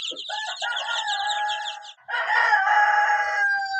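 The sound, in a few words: chickens and rooster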